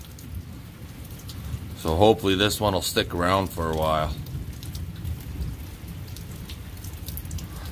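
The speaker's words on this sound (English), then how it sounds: "it's not a heavy downpour rain, but a nice rain actually" Steady, gentle rain patters constantly while low thunder rolls, a nice soft rain rather than a heavy downpour, with someone speaking briefly over it.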